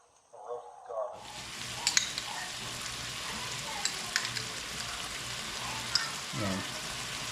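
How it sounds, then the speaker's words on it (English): Onions, peppers and roasted garlic fry in rendered bear grease, a steady close sizzle that starts suddenly and keeps going with occasional stirring clicks and scrapes. "we've got these onions and peppers cooked down about where we want them now. So we'll add about 3 heaping teaspoons of roasted garlic."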